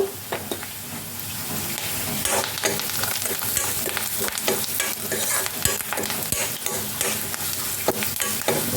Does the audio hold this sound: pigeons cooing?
no